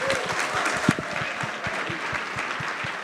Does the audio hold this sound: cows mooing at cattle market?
no